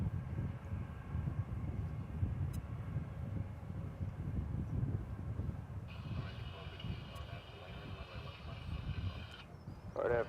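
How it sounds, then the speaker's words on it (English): An Airbus A321 airliner, American Flight 1288, taking off at DFW airport: a steady low jet roar throughout with a brief high whine in the middle, while people talk over it. "It's an Airbus A321 on runway DFW"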